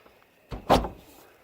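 A Honda S2000 door on a badly wrecked car, newly refitted with adjusted bolts, swings shut with one firm thump and a short rattle after it, close up in a quiet space.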